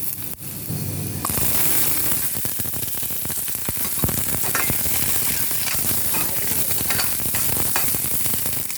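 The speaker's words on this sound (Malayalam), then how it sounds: "വെളിച്ചെണ്ണ ചൂടായിട്ടുണ്ട് കടുകിടാം" Mustard seeds and chilli flakes sizzle and crackle in hot coconut oil, a steady dense frying hiss with scattered pops running close and loud throughout, with no talk.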